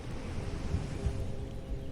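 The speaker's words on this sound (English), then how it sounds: "The waves arrive." Soft, distant ocean waves washing onto a sandy shore, a low continuous rumble of surf with gentle swells, heard alone without voices.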